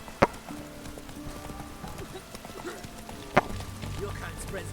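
Hooves of Roach, the horse in The Witcher 3, clip-clop at a steady gait, with two sharp metallic clanks standing out over the game's background sound, and someone talks over part of it.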